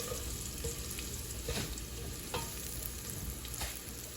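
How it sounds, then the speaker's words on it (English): Garlic, thyme and pimento sauté in a hot pan with a steady, close sizzle, broken by a few sharper scrapes and stirring clicks over about four seconds. "So I'm gonna let this garlic and the thyme, the pimento, saute it for a little"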